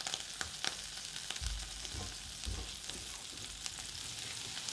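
Butter sizzling in a frying pan as wild mushroom pancakes cook, a steady close hiss with a few soft low bumps from the pan, no talk.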